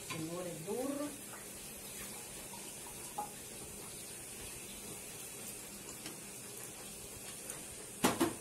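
Water from a kitchen tap pours into a pot of carrots being cooked, a steady quiet stream lasting several seconds, with a brief voice at the start and a sharp clink near the end.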